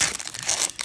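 A Magic: The Gathering booster pack wrapper being torn open, a short close burst of foil crinkling and tearing lasting under a second.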